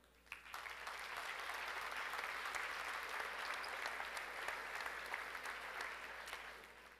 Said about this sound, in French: par applaudissement, dites-moi ceux qui, l'année dernière, avaient soit participé au grand spectacle